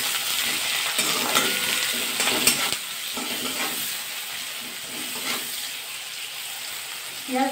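Mixed vegetables, onion and a rohu fish head fry together in a pan with a constant loud sizzle and intermittent stirring scrapes, heard close with no one talking.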